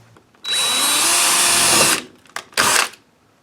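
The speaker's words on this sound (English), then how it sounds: "Now when I drill that hole, it'll actually be straight." A power drill bores a hole in a patio sliding door frame to fit a Defender security loop lock: one loud, close whine lasting about a second and a half, a short pause, then a second brief burst.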